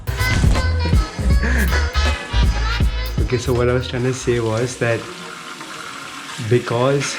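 A kitchen or bathroom tap runs steadily in the background, a continuous watery hiss under someone talking close by.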